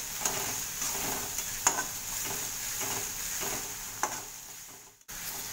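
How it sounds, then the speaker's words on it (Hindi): Chopped onion salted and frying in a pan for idli manchurian, a continuous close sizzle with occasional sharp spatula taps and stirring clinks, no voices. "एक दो मिनट के लिए हम प्याज को पका लेंगे"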